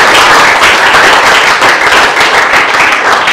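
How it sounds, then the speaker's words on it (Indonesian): A classroom of students claps for a group presentation, dense continuous applause, loud and close, with no talk over it. "Kita kasih tepuk tangan dulu untuk kelompok"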